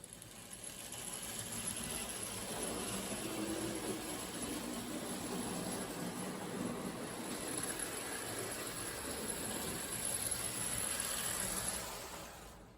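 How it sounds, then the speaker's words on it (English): A model train making laps around a track at a train show, a steady whirring rumble with light metallic clatter that rises and holds, then eases off at the end. "So let's take it around the track a couple times."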